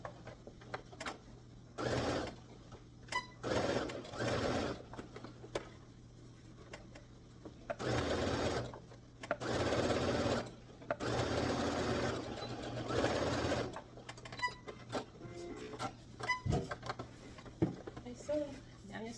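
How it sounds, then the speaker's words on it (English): A sewing machine stitching a gathered Ankara fabric skirt runs in several loud mechanical bursts of a few seconds each, close by, with pauses between where a person talks. "So I'm just gonna do a stitch right there to close that."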